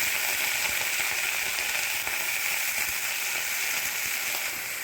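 Washed mustard greens fry with golden-brown onions in a pan, giving a steady, even sizzle that holds close and constant throughout with no talking.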